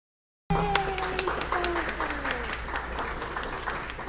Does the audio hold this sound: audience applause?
yes